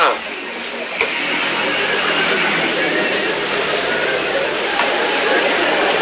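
An airplane passes overhead with a loud, steady roar that fills the whole stretch, and voices talk underneath it.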